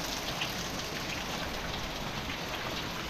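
Steady rain falling in the middle of the day, a dense, even hiss of drops that holds unchanged throughout with no voices over it.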